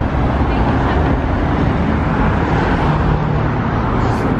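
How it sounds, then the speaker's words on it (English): Chicago street traffic rumbles along in a dense, steady low roar of passing vehicles, loud and close, with engine drone continuing throughout and a brief brighter sweep near the end. "Chicago traffic"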